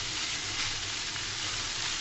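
Fish roe frying in oil, stirred in a pan: a brief, steady, close hiss of sizzling with no talking.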